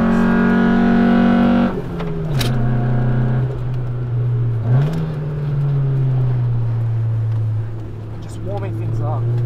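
A 25-year-old Honda Civic EK4 race car engine drones loudly on a track, dropping in pitch after a gear change and then holding a steady rumble with small surges, while a voice talks over it.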